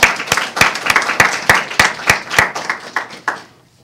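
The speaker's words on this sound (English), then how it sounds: "So how about a round of applause for Bob Brown?" A small audience at an interview event claps for a guest speaker, with a dozen or so sharp, distinct claps in a quick even rhythm that thin out and stop near the end.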